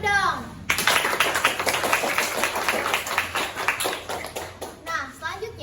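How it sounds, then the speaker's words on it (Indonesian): Clapping from a school talk-show audience with kids' voices and chatter mixed in, a burst of dense claps running a few seconds, then dying away. "Kalau gitu tepuk tangan dulu dong."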